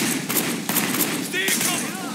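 Gunfire during a shootout in the video game Sleeping Dogs, with rapid bursts of automatic shots layered under shouted commands, dense and continuous through the short stretch.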